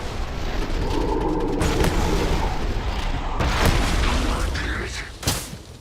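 Weapon fire and heavy booms during a fight with a Terrormorph creature in the sci-fi game Starfield, loud repeated blasts and rumbling impacts mixed with game effects and a voice.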